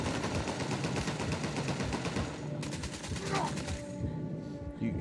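Rapid automatic gunfire rattles in an Uncharted 4 multiplayer match, loud, close and dense bursts for several seconds before dropping into quieter scattered shots, with game voices underneath.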